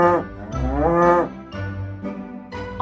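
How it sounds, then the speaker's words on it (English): A cow moos several times in a row, loud and close, with long drawn-out lowing calls and brief pauses between them. "That's right, I'm a cow."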